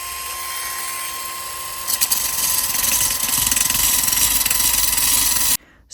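A Let's Resin 4 in 1 sander wet-sands a terrazzo tray with a high, steady whine that grows rougher and louder as the pad bites into the wet surface, then cuts off abruptly.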